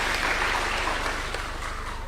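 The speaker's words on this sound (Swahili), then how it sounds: "Mpigeni makofi." A crowd at an outdoor political gathering in Embu, with President Ruto present, breaks into a short burst of dense, steady clapping with a low hum running underneath.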